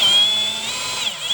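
Power drill whining steadily as it backs screws out of a plastic electrical outlet box, a close, loud continuous motor drone with a slight pitch dip near the end.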